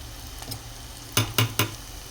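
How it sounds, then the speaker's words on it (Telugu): Potato french fries frying in hot oil in a kadai give a soft, continuous sizzle, broken by three quick metallic taps of a spoon against the pan in close succession. No talking. "వీటిని అయితే ఫ్రై చేసుకోవాలి."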